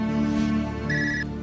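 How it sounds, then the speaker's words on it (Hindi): A phone rings with a steady electronic tone that rises to a brighter, higher chime partway through, loud and close, in an Urdu-dubbed Turkish drama, with no talking. "प्लीज फोन उठाओ फरहत, फोन उठाओ।"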